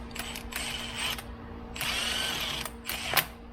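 A power tool spins an open-end lug nut down onto a washer-shimmed 3-inch wheel stud on a Fox-body car, three short whirring bursts with ratcheting pauses between, close up.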